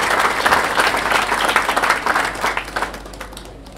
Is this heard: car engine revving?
no